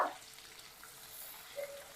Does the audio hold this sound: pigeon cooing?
no